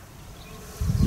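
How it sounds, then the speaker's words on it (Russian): Flies and bees buzz steadily around a fruiting apple tree outdoors, a dense continuous insect drone that swells louder toward the end as insects pass close by. "И на ней и мухи, и пчелы, и кого только нет, судя по звукам."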